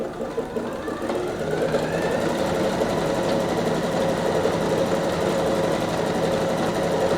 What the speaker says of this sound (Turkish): Makineyi çalıştırıyorum